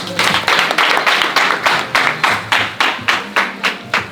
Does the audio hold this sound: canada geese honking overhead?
no